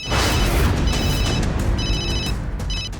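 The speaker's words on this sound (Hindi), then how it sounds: "फोन पर एक कॉल आ रही है" An incoming call sets a phone ringing in short repeated electronic bursts over a loud, dense dramatic background score.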